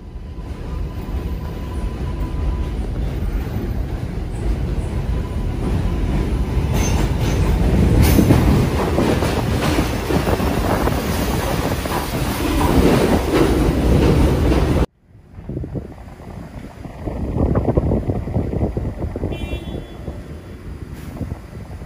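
An NYC subway L train arrives at Livonia Ave station, a loud sustained rumble of wheels and clatter with squealing that cuts off abruptly midway, followed by quieter station noise and rolling sounds.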